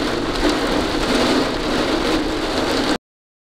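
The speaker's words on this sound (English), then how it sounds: "I'm going to have to stop here for a bit because this storm is out of control." A heavy rainstorm pours down in a steady, dense roar that drowns out everything else and holds level for about three seconds before cutting off abruptly; no distinct thunderclap stands out from the wash.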